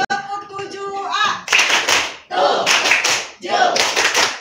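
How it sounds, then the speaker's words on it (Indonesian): A middle-school class performs the 'tepuk tujuh' clapping chant. A brief voice comes first, then three loud, separated bursts of many hands clapping together in rhythm, close and full. "Kalau semangat, coba kita yel-yel dulu ya. Tepuk tujuh, A."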